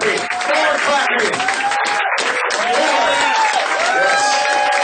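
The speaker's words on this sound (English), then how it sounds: "More clapping." A large audience at a comedy roast applauds steadily, dense clapping mixed with cheers and whoops, loud and continuous throughout.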